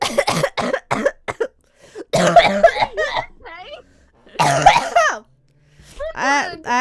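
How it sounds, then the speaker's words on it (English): Several short bursts that fit coughing and throat clearing, broken up by spoken voices, with speech returning between and after the bursts at close range. "I actually needed to cough then."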